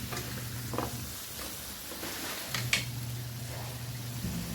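Sautéed mung beans seasoned with fish sauce being stirred in a pan, soft scraping and a few light clinks over a gentle sizzle and a low steady hum, close and brief with no talking.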